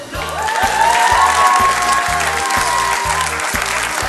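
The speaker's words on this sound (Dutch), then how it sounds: "Geef haar een daverend applaus." Loud, steady applause from a large student audience fills the room, continuous clapping with a faint murmur of voices and a soft tonal hum beneath.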